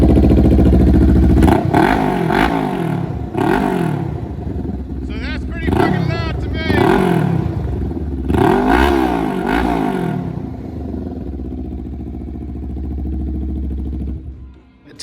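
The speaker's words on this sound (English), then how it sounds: "the exhaust, right? Which is the DIABLO twin pipes. And so let me just crank this puppy up for you." A Honda Rebel 500 fitted with Diablo twin pipe exhaust, baffles partly removed, revs up sharply in a series of loud throttle blips over a rumbling idle, close and powerful.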